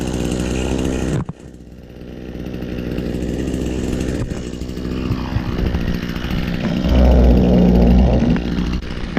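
An engine runs continuously after a cold start in winter, a loud, close, rough droning that dips briefly early on and then builds to a heavier, steadier roar near the end.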